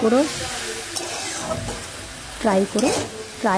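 Cabbage is stirred with garam masala in a frying pan: steady sizzling with scraping spatula strokes, close and fairly loud, joined by a few short tonal sounds toward the end.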